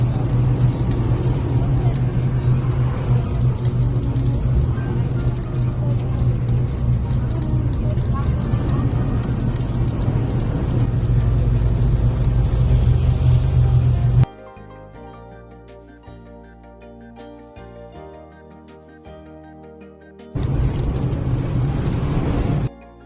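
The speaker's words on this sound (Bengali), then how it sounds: "এরই মধ্যে আমরা গাড়িতে উঠে গিয়েছি" Car ride toward Mawa ghat, with a steady low road rumble and engine drone filling most of the cabin sound; it breaks into a quieter stretch with tonal music before the driving noise returns. People talk over it.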